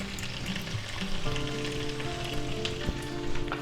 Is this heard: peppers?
yes